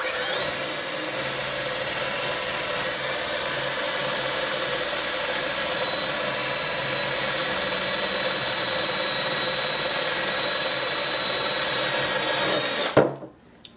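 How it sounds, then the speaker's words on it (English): A power drill runs continuously at high speed while drilling through a balloon arch base, a steady sustained whine that holds for most of the clip and cuts off abruptly with a short clatter near the end. "I'm going to drill through it."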